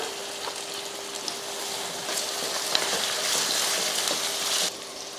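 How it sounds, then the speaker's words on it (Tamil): Tomatoes and brinjal sautéing in a pan for a South Indian kuzhambu, a steady broadband sizzle and crackle running throughout with occasional stirring scrapes, close and moderately loud, no voices. "இப்போ தக்காளியும் கத்திரிக்காயும் நல்லா வதங்கிட்டு இருக்கட்டும்"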